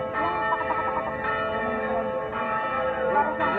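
A small hand bell rings steadily for a few seconds, its bright overlapping tones close and sustained throughout, with no talking.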